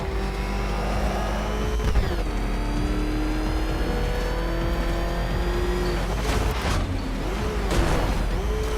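The Batmobile's engine in Batman Arkham Knight roars steadily and loudly, its pitch rising and falling as it revs, with brief swells near the end and no voices.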